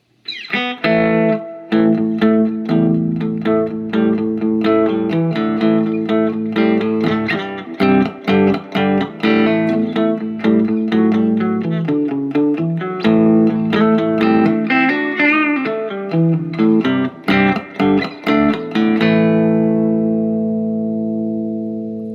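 A distorted electric guitar plays chords and riffs through an overdriven 2021 Vox AC15C1 tube amp with a Greenback speaker, loud and continuous, ending on a sustained ringing chord.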